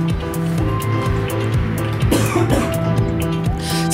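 A single cough breaks through midway, over a steady musical background with a low drone and bright repeating tones.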